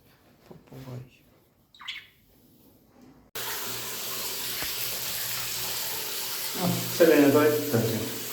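Water runs from a tap to fill a toilet cistern, starting abruptly as a steady, fairly loud rushing flow that swells toward the end, preceded by brief quiet talk.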